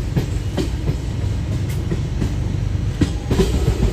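The Vasco-da-Gama Shalimar Amaravati Express runs along the tracks, its wheels giving a steady low rumble punctuated by regular clickety-clack beats over rail joints, heard close and without talk.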